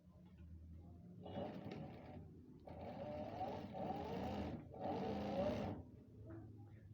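A sewing machine runs in three bursts of stitching along a sleeve with buckram interfacing, each run lasting about a second, with short pauses and some faint talk between them.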